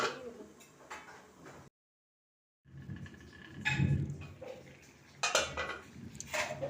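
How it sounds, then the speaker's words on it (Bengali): Pot lid lifted off a simmering ash gourd curry, then a spoon stirring inside the pot: close metallic clanks and scraping in short bursts separated by a brief silent gap. "এবার ঢাকনাটা খুলে আবার একবার নাড়িয়ে নেব"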